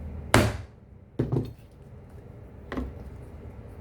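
Leather being punched with a hole punch in a leather restoration workshop: three sharp struck impacts, the first loudest, spaced irregularly over a quiet room background.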